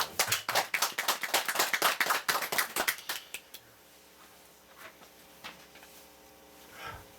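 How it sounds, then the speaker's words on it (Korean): An audience applauds a Dharma teacher at a Buddhist lecture with a burst of clapping of fairly even rhythm that fades after about three seconds, leaving a quiet room with a few faint taps and stirrings. "우리 법사님한테 박수 한번 보내줘요."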